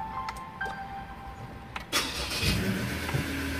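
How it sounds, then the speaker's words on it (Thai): A Ford Everest SUV starts with its push-start button. A few faint clicks come first, then the engine cranks and catches with a loud burst and settles into a steady idle, close by, with no talk. "รถก็สตาร์ทติดได้อย่างง่ายดาย"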